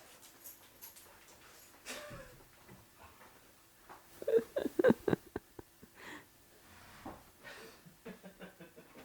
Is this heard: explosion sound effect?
no